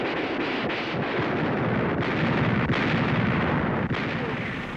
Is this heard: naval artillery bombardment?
yes